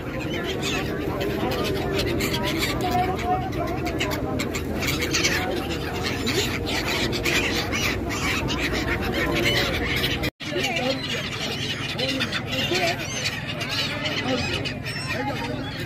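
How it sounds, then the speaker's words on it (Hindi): Siberian migratory birds call at Scindia Ghat on the river steps of Varanasi, a busy chorus of chirps and honks over constant ambient noise and distant voices, with a brief dropout near the end. "ये देखिए ये सामने आपका है साइबेरियन पक्षी"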